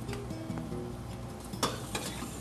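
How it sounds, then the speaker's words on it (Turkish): Wooden spoon stirring sautéed onion, pepper and beef with tomato paste in a hot pan, soft scraping and light sizzle with a sharper clack near the end, close and without talk. "soğan, et karıştırıyoruz güzelce"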